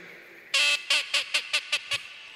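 A hand-blown teal duck call sounds one long held note, then six short quacking blasts in a quick, evenly spaced run, close and loud with no talking.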